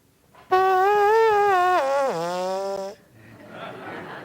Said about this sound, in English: We actually have to buzz our lips, which kind of sounds like this.